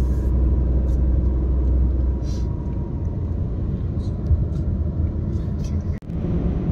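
A car runs steadily along a Himachal mountain road with a constant low engine rumble and road noise throughout, close and loud, while someone talks over it.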